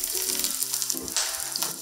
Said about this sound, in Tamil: பாருங்க வெடிச்சிருச்சு, வெடிச்சு வருது.